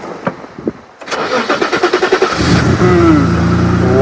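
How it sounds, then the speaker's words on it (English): A 1989 BMW 535i starting up close by: a few faint clicks, then the starter cranking in a quick pulsing rhythm before the engine catches and settles into a steady loud idle. "So let's listen to that perfect startup."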